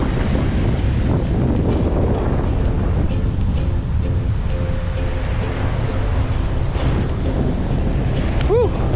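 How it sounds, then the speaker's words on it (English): Strong wind buffets the microphone on a beach on Oahu, Hawaii, a loud, constant low roar with surf mixed in, and brief voices and a faint rising tone near the end. "Whew, windy"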